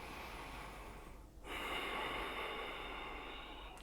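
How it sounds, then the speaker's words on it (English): Deep breathing during a strong vinyasa yoga flow: a long, soft airy breath, a brief pause, then a fuller, steady exhale or inhale held for a couple of seconds, close and fairly quiet. "Take 3 more breaths."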